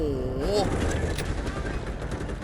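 An M4A1 rifle fires in rapid bursts in the shooter game Delta Force, loud and continuous throughout, with a voice briefly talking over the opening.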